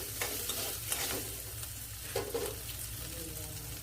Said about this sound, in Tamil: இஞ்சி பூண்டு விழுதோட பச்சை வாடை போகும் வரைக்குமே கொஞ்சம் நம்ம அதை வதக்கணும்